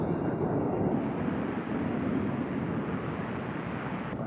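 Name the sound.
airplane at Nashville International Airport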